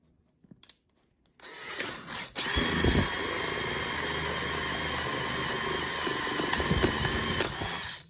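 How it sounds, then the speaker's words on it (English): Power drill boring a hole in PVC at high speed: after a few faint clicks it whirs up and runs as a loud, steady high-pitched grinding drone for about five seconds, then stops. "I found that drilling at a high speed works well"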